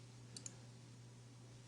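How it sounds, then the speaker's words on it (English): Two faint, quick computer mouse clicks, a right-click close together, over a low steady hum, with no speech. "let's right click, set that value to 0"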